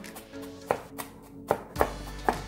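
A knife chops onion greens on a cutting board, four or five sharp, distinct knocks at an uneven pace, close and clear with no speech.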